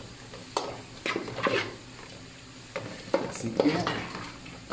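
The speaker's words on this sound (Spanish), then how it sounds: "Para sofreír nuestros camarones ya en nuestra salsa o en nuestra base" Shrimp sautéing in a sauce base, with a sizzle under repeated scraping stirs of a utensil against the pan and a brief spoken remark.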